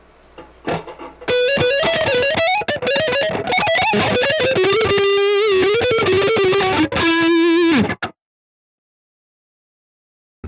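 An electric guitar played through Positive Grid Bias FX with compressor and reverb plays a sustained, smooth phrase with even, compressed notes and a roomy reverb tail, then stops abruptly into silence.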